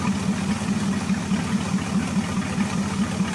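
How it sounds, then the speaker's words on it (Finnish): A petrol car engine idles steadily and quietly after a fuel additive treatment, a smooth continuous hum with a regular low pulsing beat and no revving, close and alone with no talk. "Käytetään nyt ensimmäistä kertaa RVS:ää laittamisen jälkeen, niin tyhjäkäyntiä käy aika tasaisesti"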